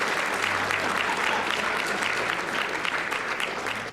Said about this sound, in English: can we get another round of applause for Andy and his excellent Link to the Past speedrun?